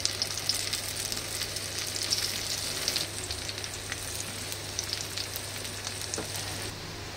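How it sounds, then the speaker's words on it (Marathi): Pieces of alu wadi (colocasia leaf rolls) shallow frying in oil over a medium flame, giving a steady, close sizzle with fine crackling throughout and no talking. "आता हे छान ना आपण खमंग फ्राय करून घेऊया. शॅलो फ्राय करायचं."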